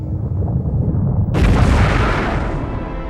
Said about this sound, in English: This is the fireball of the hot Big Bang.